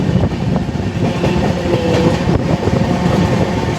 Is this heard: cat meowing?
no